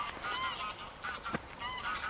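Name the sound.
Canada geese honking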